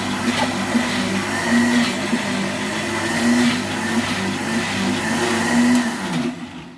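Blender running steadily as it mixes eggless mayonnaise that is thickening, a continuous loud motor whir with a slightly shifting pitch, cutting off at the end.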